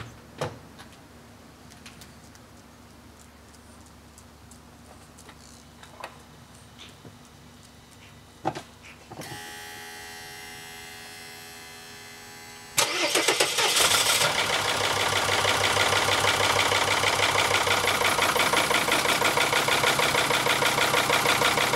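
A diesel engine with freshly refitted injectors cranks briefly, then catches and settles into a loud, steady idle without knocking, heard up close with no talk.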